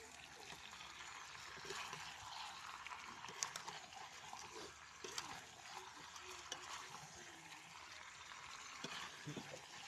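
Chicken kosha cooks in a pan over a wood fire, with a continuous frying hiss and repeated scraping and clacking strokes of stirring, fairly quiet and steady.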